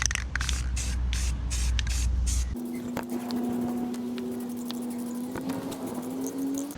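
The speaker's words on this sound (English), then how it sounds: "Now let's do the first coat of paint." Spray paint hissing steadily onto a Daihatsu HiJet kei truck part, a broad continuous rush that shifts partway through to a steadier tone with a faint hum, close and fairly loud.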